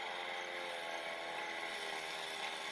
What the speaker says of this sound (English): you still need a 2021 lawn mower to keep the lawn trim